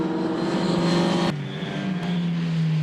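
Two classic Porsche race cars at the Le Mans Classic, their engines roaring loud and steady, with a pitch drop midway as one passes and a second engine note sustained nearby.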